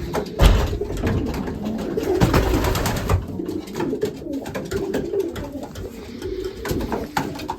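Racing pigeons coo softly and repeatedly close by in a loft, with scattered rustling and light bumps in the background.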